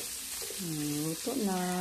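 Sautéed pork in a pan sizzles steadily as broth is added, with a voice speaking briefly over the continuous frying hiss.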